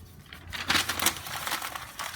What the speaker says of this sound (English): I'm going to start crumpling up used computer printer paper